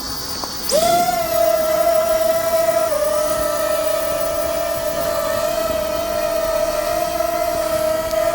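A Wingsland S6 drone spins up and lifts off at night, a sharp start followed by a steady, close, high-pitched motor whine that holds level for several seconds with no voices.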